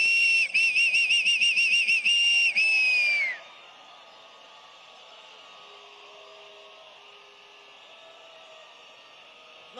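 A crowd at a PSUV political rally in Caracas whistles loudly in a whistling contest, one piercing warbling tone with pulsing bursts for about three seconds, then fading into a steady, distant crowd hiss.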